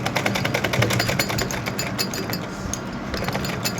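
A sewing machine stitches a collar, running in a fast, steady needle rhythm at close range. The chatter is loud and continuous, with no voices over it.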